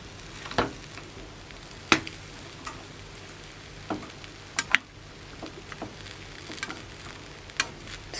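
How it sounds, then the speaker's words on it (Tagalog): An omelette cooks in a lightly oiled frying pan with a soft continuous sizzle, broken by several sharp clicks and taps of a utensil against the pan. "Dito natin lulutuin yung ating omelette."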